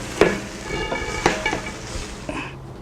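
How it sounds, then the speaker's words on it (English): Mapo tofu being stir-fried in a pan over medium-high heat: a steady sizzle, with a few sharp spatula scrapes and clanks against the pan at irregular intervals, close and fairly loud. "Stir fry this on medium-high heat for about 3 more minutes"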